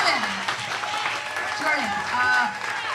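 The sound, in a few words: audience applause for Valarie and Jordan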